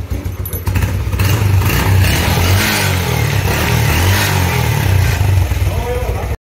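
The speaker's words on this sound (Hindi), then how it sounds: "अभी इसका सिंगल सिलेंडर है और बाइक का आवाज ऐसा है" A single-cylinder motorbike engine revs loudly and close by, a throbbing low pulse that rises and holds steady throughout, with a voice partly audible over it.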